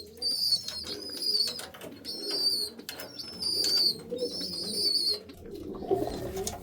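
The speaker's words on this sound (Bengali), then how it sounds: "এখানে একজোড়া আন্দ্রা পায়রা আছে।" A pair of Andhra pigeons in a loft on an overcast day give soft, low coos under repeated bright, whistling chirps from nearby birds, with occasional fluttering.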